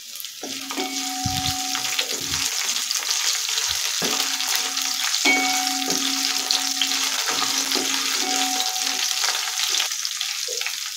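Chopped green chillies frying with browned garlic in hot oil, a steady close sizzle running throughout with a few scraping stirs of a spoon, no voices.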